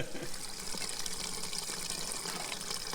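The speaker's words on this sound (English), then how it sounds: "20 litres is nothing, but when you're pouring it in a jerry, it's like a lifetime." Fuel pours from a 20-litre jerry can into a long-range tank on a Toyota Landcruiser 80, a steady, continuous gushing splash of liquid heard close up without talk.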